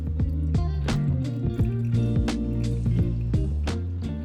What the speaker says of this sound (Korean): 침지 과정을 거칠 거기 때문에 총 150g의 물까지를 빠르게 부어주시고